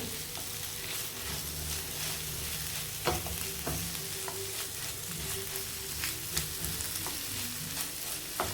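Cucumber pieces sizzle in a pan with a little oil while being stirred, a steady frying hiss close by broken by occasional scraping clicks of the spatula.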